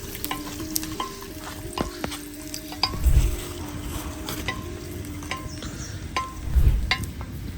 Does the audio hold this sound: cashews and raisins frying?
yes